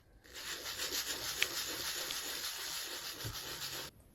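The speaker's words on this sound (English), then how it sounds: "Now sand the bottom of the keycap again." A custom keycap's bottom is sanded by hand, a soft, steady scratchy rubbing hiss repeating in quick strokes, close and faint, stopping abruptly at the end.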